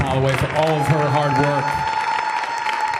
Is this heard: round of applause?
yes